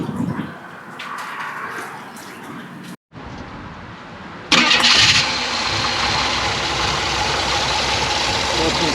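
A 1974 Jeep CJ-5 with a 4.2 liter inline-six and an aftermarket carburetor cranks briefly, catches and settles into a steady, close idle after some earlier handling noise.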